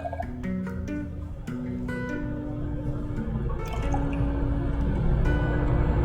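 Water pours from above into a small measuring beaker, a gurgling, bubbling trickle whose pitch climbs as it fills, steady and close for several seconds with no talk.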